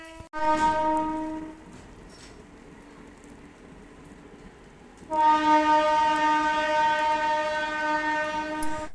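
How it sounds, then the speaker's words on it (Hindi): A train sounds its horn in two long blasts, loud and sustained with a steady rumble between them, heard from nearby with no one talking. "और उधर से ट्रेन अपना हॉर्न दे दिया।"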